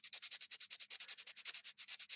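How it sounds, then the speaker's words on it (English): Rapid back-and-forth scratching of sandpaper over a dried glue patch on a wooden peg, an even rhythm of about ten strokes per second, close and fairly quiet. "just sanding over that gluey part just to try and get it a bit"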